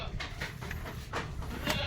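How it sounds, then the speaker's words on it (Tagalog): Goats in their pen at a farm goat house give short, rough bleating calls, several scattered bursts at moderate distance with steady background noise and no talking. "Palalabasin ko pa yung mga kambing natin."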